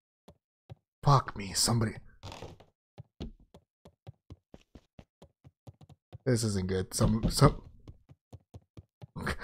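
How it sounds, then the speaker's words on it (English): Knocking on a door in the video game Beacon Pines: a long series of sharp, evenly spaced raps continues throughout, while someone speaks over the knocks in two bursts. "Stop knocking."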